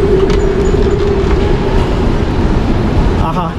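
A Panama City metro train runs past close by, a loud steady rumble of wheels and carriages with a sustained tone throughout and faint squeal near the end.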